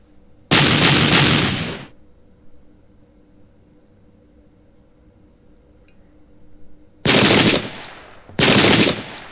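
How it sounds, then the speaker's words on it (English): Musket volleys in the Pike and Shot battle game at Prestonpans crash out as three loud, noisy bursts, one long volley followed by a quiet stretch and then two more in quick succession. "Nice return fire by our men."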